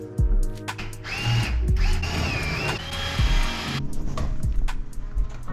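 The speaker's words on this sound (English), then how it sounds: "So I'll grab some long screws and we'll get her screwed in there." A power drill drives long screws through a metal strip during a kitchen island installation. It gives loud, close whirring runs with a rising motor pitch, a brief pause between runs, and then a final shorter burst.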